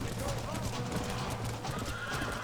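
Horses in the Red Dead Redemption video game neigh and whinny while hooves clip-clop close by, mixed with shouting voices and game background noise.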